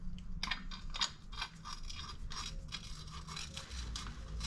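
An exhaust bolt on a Lobo 250r is turned with quiet, gritty crunches in its threads, a series of small irregular scraping clicks close up with no talking.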